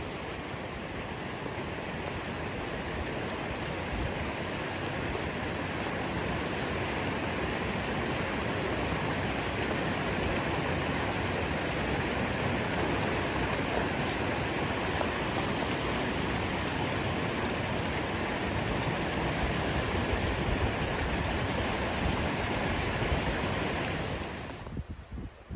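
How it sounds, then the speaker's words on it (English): Deep, fast-flowing water rushes down Swan Clough on Bleaklow, a dense, steady roar heard close and alone for about twenty-five seconds before it cuts off. "there's definitely more water than there was last time. In fact, it's pretty deep and pretty fast flowing."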